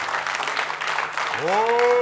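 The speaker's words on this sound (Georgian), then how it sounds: "აპლოდისმენტები" A TV comedy game show studio audience applauds in a steady, dense patter of clapping that runs throughout, with a voice rising over it near the end.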